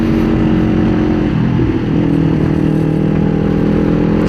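2024 Kawasaki Ninja 500 motorcycle being ridden, its engine droning loudly and steadily with a slight rise in pitch as it accelerates, heavy wind and road noise underneath.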